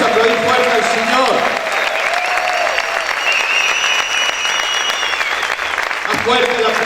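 A church congregation applauds loudly during a sermon, a strong continuous burst of clapping from many people, with a spoken voice audible under the applause at the start and end.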